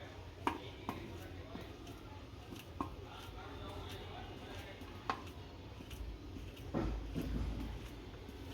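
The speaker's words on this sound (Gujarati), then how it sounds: "આ રીતના 3 કેળાના બટકા કરી નાખશું" Bananas are chopped into pieces, three at a time, with sparse soft knife taps on a board in a quiet kitchen, with a louder scraping stretch near the end.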